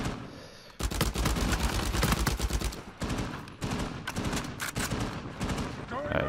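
Rapid bursts of gunfire from a pirate-colony shootout in the video game Uncharted 4 multiplayer, loud and dense in repeated volleys with short gaps, while people talk over it.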